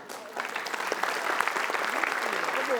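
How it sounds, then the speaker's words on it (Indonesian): A studio audience at a comedy game show claps in a dense, sustained burst that swells in after a brief quiet start and holds steady, crisp hand slaps close and continuous. "Main tepuk tangan aja."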